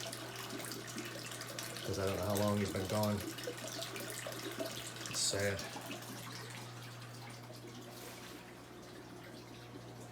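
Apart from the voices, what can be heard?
water running from a tap for an aquarium water change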